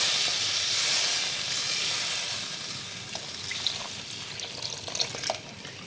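Water poured into a spicy Bengali mustard-paste fish curry with taro hisses and bubbles as it comes to the boil in the pan, a steady close sizzle with a few faint pops and no talking.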